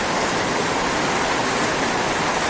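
Heavy rain pouring down in a steady, dense hiss, loud and close with no pauses, like a downpour drumming on surfaces.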